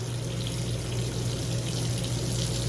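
Tap water runs steadily into a container of hot boiled eggs to cool them in an RV kitchen. The flow is constant and close, with a low hum underneath and no voices.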